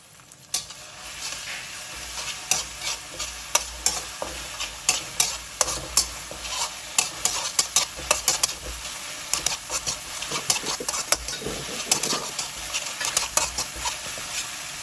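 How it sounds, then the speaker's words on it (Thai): Chili and garlic being stir-fried in pork lard, with a dense crackling sizzle and rapid repeated clanks and scrapes of a spatula against the pan, close and fairly loud. "ใส่พริกกับกระเทียมลงไปผัดค่ะ"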